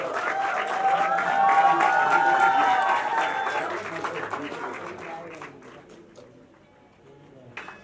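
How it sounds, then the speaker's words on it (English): An audience at a music video launch breaks into applause, loud at first under a held voice or tone, then thinning out and fading over several seconds. "Can we have a huge round of applause for the team?"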